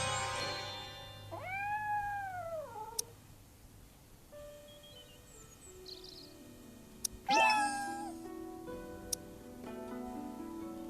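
A cat gives two drawn-out meows a few seconds apart, close and clear over a quiet background hum, with a few faint ticks and no talking.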